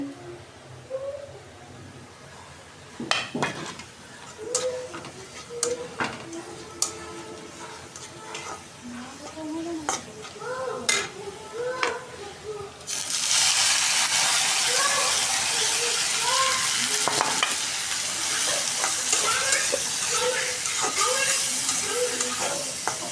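Ginger-garlic paste and cumin powder sauté in oil with scattered clatter and stirring knocks. About halfway through, a loud, dense sizzle bursts in and holds steady while a voice speaks intermittently over it.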